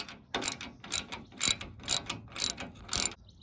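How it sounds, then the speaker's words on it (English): Clamp being cranked down to draw in and screw a replacement fastener on a Cargo Glide, giving six evenly spaced ratcheting clicks roughly half a second apart, close and clear with no talk. "I'm gonna use this clamp here to suck the thing in while I screw it down."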